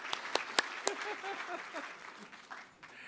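Audience applause at a cultural diversity awards ceremony, a few sharp claps at first, then a thin scattered clapping that fades toward the end, with a voice talking over it.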